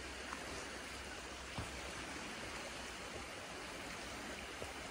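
Water from a canyon stream rushes continuously at night, a broad steady roar with a few faint clicks and ticks surfacing above it; nobody speaks.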